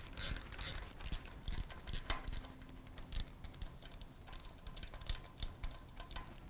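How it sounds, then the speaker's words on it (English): Nut being turned on a valve spring compression tool during BMW N63TU valve stem seal work, giving quiet, rapid ratcheting clicks in uneven bursts, close and alone. "Release tension on spring by rotating nut clockwise."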